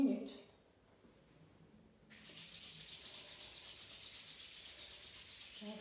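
Palms rub briskly together in a steady, rhythmic swishing that starts after a quiet stretch, close by; a voice speaks briefly at the start.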